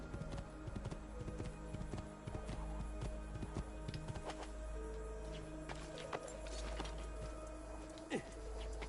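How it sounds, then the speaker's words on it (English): Horse hooves clip-clop in the video game Assassin's Creed II, a faint, uneven series of hoof strikes mixed with game ambience and other clicks, at a low level under occasional speech. "Go away, horse. I don't need to ride you."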